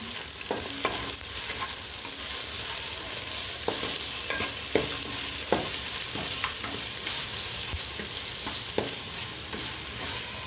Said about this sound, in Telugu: అల్లం వెల్లుల్లి పేస్ట్ వేసాం కదండి. ఇప్పుడు ఒక 5 నిమిషాలు అయితే బాగా మగ్గించుకోవాలి.